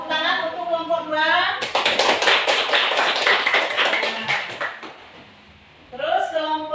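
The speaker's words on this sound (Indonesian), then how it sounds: "Tepuk tangan untuk kelompok 2." A classroom of children claps together for a student group during a science lesson, a dense burst of many hands lasting several seconds between stretches of a teacher talking.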